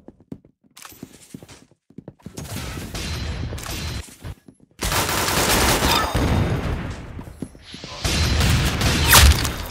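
Gunfire from shooting in a game, with bursts of dense rapid shots and clattering impacts, loud and close, building into sustained volleys toward the end.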